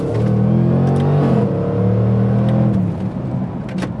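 Jaguar F-PACE SVR engine pulling hard on a winding road, a loud steady drone with shifting pitch that holds, then eases and settles into a lower tone toward the end, with no talk over it.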